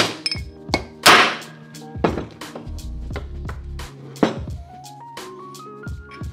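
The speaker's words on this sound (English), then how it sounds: "to remove the races, you just use a punch and a hammer." Sharp metallic hammer strikes on a punch drive the wheel bearing races out of a Toyota AE86 front hub, a handful of loud, irregular clanging hits with ringing tails, close by and with no talk.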